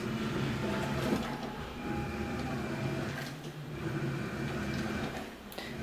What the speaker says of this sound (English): This is how loud the washer is when it's running.